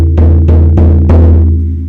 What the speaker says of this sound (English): I pause and then I hit the drum 7 times.